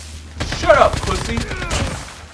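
Gunfire in the Call of Duty Mobile battle royale, SKS Particle Splitter gameplay: dense bursts of rapid shots crackle over a murmur of game sound, loud and close throughout.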